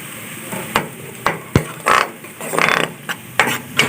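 Onions browning in a pan over low heat, a soft frying hiss broken by sharp scraping and stirring knocks of a utensil against the pan, close and intermittent.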